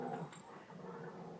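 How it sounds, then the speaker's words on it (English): A big boxer and a baby boxer play nearby, making low, rumbling growls that are quiet and continuous. A faint whine is heard near the start. "That's the big boxer playing with the baby boxer."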